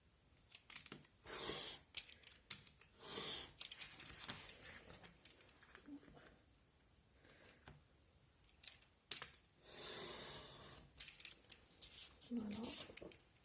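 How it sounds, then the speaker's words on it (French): Craft cutter knife slicing through a scrapbook album cover, Stamperia Forest, with short scraping cuts in bursts between quiet gaps, close and moderately loud. "Je vais prendre le cutter,"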